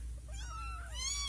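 A kitten meowing, with one short squeak followed by two high, rising and falling mewls, close and clear over a low steady background hum.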